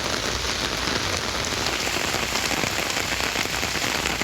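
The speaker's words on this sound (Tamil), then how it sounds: "இந்த மழை காரணமாக சாலைகளில் மழைநீர் வெள்ளம் போல பெருக்கெடுத்து ஓடியது" Heavy rain pouring onto roads that flood with running water, a dense, steady hiss of falling drops from start to end, loud and close with no voices.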